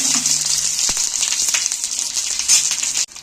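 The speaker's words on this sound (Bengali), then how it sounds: "তেলটা গরম হয়ে গেছে আমি এর মধ্যে তুলে দিচ্ছি" Banana-leaf wrapped brinjal for masala begun bhaja crackles in hot oil with a loud, steady, close sizzle, one soft thump near the start, cutting off abruptly at the end.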